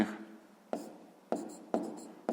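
A pen or marker scratches out a sixth-grade fraction solution in four separate strokes, each starting with a sharp onset and trailing off, spaced by brief pauses, close and fairly quiet.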